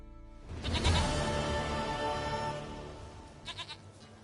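A single goat in The Witcher 3: Wild Hunt lets out one long, loud, quavering bleat close by, followed by a shorter wavering call near the end, with no talk over it.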